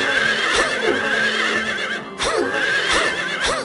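Horses neigh and whinny repeatedly in the video game Silent Hill 3, loud, close calls with shrill rising and falling cries, with a short break in the middle before more neighing.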